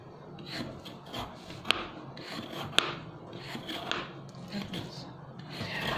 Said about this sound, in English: you invert the carrots and start peeling off over here, always in a down position